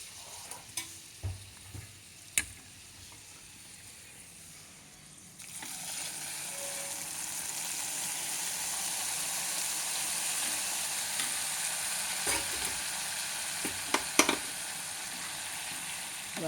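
Fried food is stirred in a pan, first with a few scattered clinks and scrapes. A steady loud sizzle then rises and holds, with occasional scraping of the utensil against the pan.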